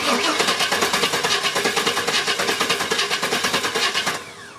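A Chevy 350 Vortec engine cranks without catching, a loud, close, rhythmic starter churn that repeats steadily for about four seconds before cutting off.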